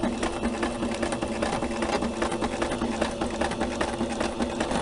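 A domestic sewing machine runs steadily, stitching fabric in a continuous, even mechanical whir with a fine rapid rhythm, close and moderately loud with no talk.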